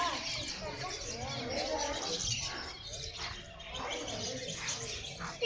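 Partridges and pigeons calling in a shared open plot of a village at early morning, with soft repeated chirps and coos fairly faint over steady outdoor background noise; voices are present.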